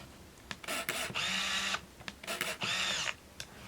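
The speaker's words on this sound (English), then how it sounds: "we're hearing the motor rewinding the film back" An Olympus Infinity Stylus Zoom Quartz Date compact film camera whirs as its small motor rewinds the film, in several short buzzing bursts separated by brief pauses, close and fairly quiet.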